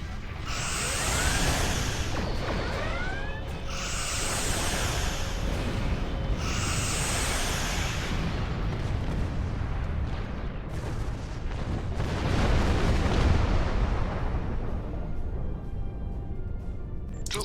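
Weapons fire and explosions in the space combat game Star Trek Online, a dense continuous barrage of booming blasts and swooshing energy shots with a heavier surge near the end.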